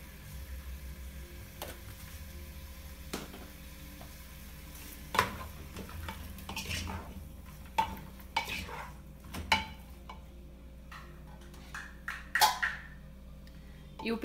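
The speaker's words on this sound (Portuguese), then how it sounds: "Agora eu vou deixar refogando aqui um pouco" Chicken gizzards sautéing with spices in a pan, a low sizzle under repeated spoon scrapes and clinks of utensil against pan, irregular and close by.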